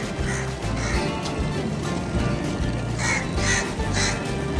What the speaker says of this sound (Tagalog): Ang daming uwak dito.